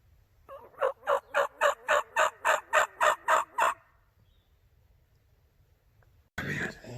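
A wild turkey gobbles in a rapid run of about ten loud, close pulses in snowy spring woods, then silence before a short burst of other noise at the end.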